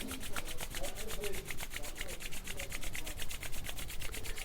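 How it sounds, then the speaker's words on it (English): Both palms rubbed briskly together to make heat, a rapid, even swishing friction repeated in a steady rhythm, close and moderately loud with a faint background voice. "Rub your both palm together. Make a heat."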